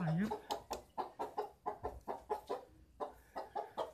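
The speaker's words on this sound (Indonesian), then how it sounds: "Ada ayam." A chicken clucks in an abandoned village in Majalengka, Indonesia, a quick series of short, repeated calls, fairly close, with a brief rising squawk at the start.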